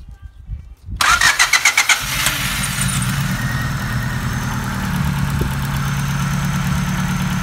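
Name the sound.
car engine starting and running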